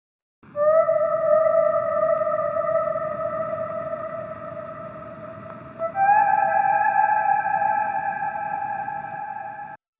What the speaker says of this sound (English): We also have this whale synth